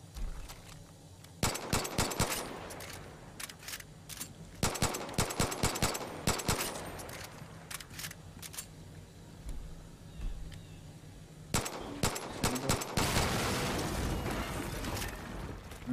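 Bursts of automatic gunfire from the video game Far Cry 5, rapid rattling volleys in several separate clusters with short pauses between, loud and close, plus a longer sustained barrage toward the end.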